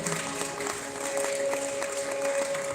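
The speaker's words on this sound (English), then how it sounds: "Let us give a huge round of applause for them." A live crowd at a Mizo cultural stage event keeps up steady applause for a performing group. A sustained high tone rings through the clapping.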